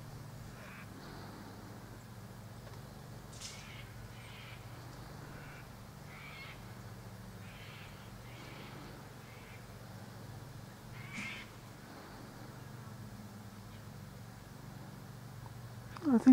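A peregrine falcon (Falco peregrinus macropus) gives a series of harsh, repeated calls at irregular intervals, faint and distant in an outdoor setting, with quiet human voices in the background.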